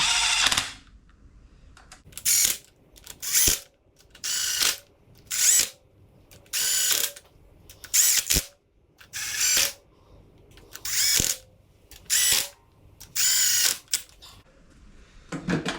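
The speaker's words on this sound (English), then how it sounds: "So I'll just whiz those down with the gun, just to nip them in order" Power gun running down cylinder head nuts on an MGB 18V engine being rebuilt: about a dozen loud, close, whirring bursts, each roughly a second long, separated by short quiet pauses.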